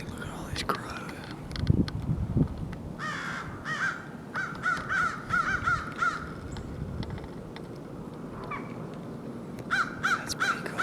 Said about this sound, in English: look at all these crows